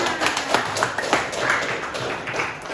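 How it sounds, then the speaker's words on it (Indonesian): A classroom of students claps hands, a brief, fairly soft burst of scattered claps heard from nearby. "Ya, tepuk tangan."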